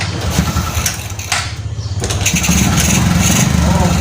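A carbureted motorcycle engine running without an air cleaner fitted, a steady close buzzing drone that builds in loudness over the second half, with a brief dip partway through.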